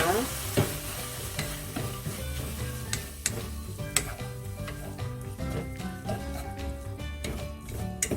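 Braised burdock is stir-fried dry in a pan, with frequent scraping and clacking of a utensil against the pan over a soft sizzle, close and rhythmic, no speech.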